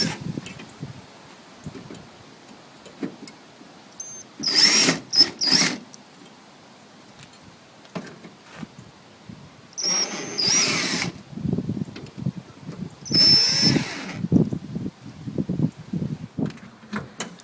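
A power drill backs Phillips screws out of a 1966 Mustang taillight cover in three short whirring bursts separated by pauses, with faint handling noises between them.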